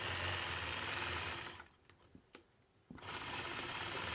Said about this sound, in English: Now I'm going to stitch point to point lines, starting at the top of the block